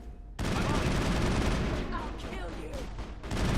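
Gunfire during combat in the video game Mass Effect 1, a sustained fusillade of rapid shots starting abruptly after a brief quiet moment and continuing loudly to the end, with faint voices mixed underneath.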